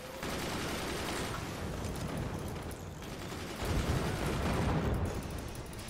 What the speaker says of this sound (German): wir schießen da einmal kurz rüber